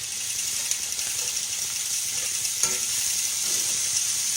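Hamburger steak sizzling steadily in a hot pan, a bright continuous frying hiss with faint scrapes and clicks as the meat is stirred around, close and without talk.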